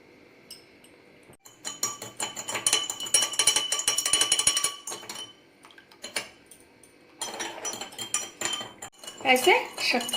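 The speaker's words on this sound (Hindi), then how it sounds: "ऐसे शक्कर और नमक का हम पानी में घोल लेंगे ऐसे।" A metal spoon clinks and scrapes against a glass in quick bursts, stirring sugar and salt into water for a masala shikanji lemonade, with short pauses between the bursts of stirring.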